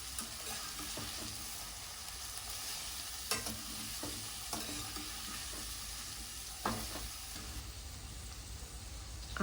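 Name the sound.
vegetables sautéing in oil in a pan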